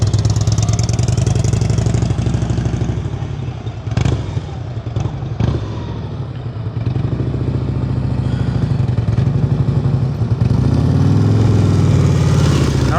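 A motorcycle engine idles and putters steadily through slow-speed riding practice in North Carolina, loud and close, with a few thumps and clatters as the rider maneuvers.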